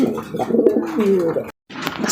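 Homer pigeons, including a female, coo in low, throaty rolling notes close by. The cooing runs steadily, breaks off briefly, then resumes, with soft background voices.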